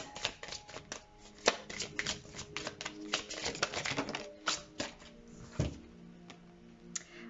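Tarot cards being shuffled by hand, a fast irregular stream of soft papery riffles and flicks, close and fairly quiet, with no voice over it.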